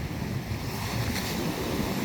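Rushing water pouring through a narrowing river mouth at low tide, a continuous broad roar like surf with wind noise buffeting the microphone, steady and close throughout.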